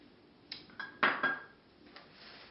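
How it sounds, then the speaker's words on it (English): Irish soda bread dough being mixed in a bowl: a few scraping, clinking knocks of a utensil against the bowl, with one louder bump in the middle, close and fairly quiet. "And mix it all up"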